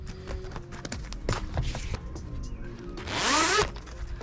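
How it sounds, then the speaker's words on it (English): A few quick zipper rasps on a Yamaha jet boat's bimini top cover, then a longer, louder pull near the end, close up, with light handling noises in between. "we'll have to undo the zipper"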